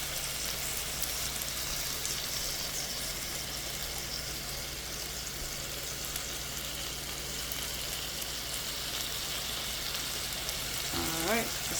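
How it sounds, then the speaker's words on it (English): Philly cheese steak meat with onions, peppers and mushrooms sizzling on a griddle, a steady soft hiss and crackle running evenly throughout, fairly quiet, with a brief voice near the end. "Okay, we got that sizzling right there."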